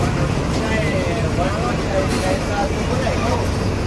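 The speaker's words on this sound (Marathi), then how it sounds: "नीरा बस स्टँड आलेलं आहे बघा, बघू शकता तुम्ही." Nira bus stand with MSRTC buses: a loud, steady idling bus engine rumble close by, with crowd babble and voices mixed in throughout.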